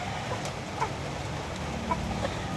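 Golden Boy rooster clucking softly at a distance, with brief calls over a steady outdoor background hum.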